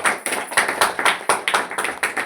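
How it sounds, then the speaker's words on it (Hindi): Audience clapping at a Hindi speech rally, rhythmic, loud and close, with bursts of synchronized claps repeating about four times per second and no talk. "जबरदस्त ताली हो जाए।"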